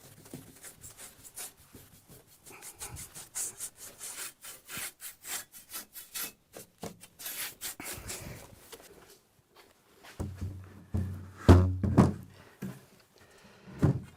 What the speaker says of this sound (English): We'll just give it a really good dust.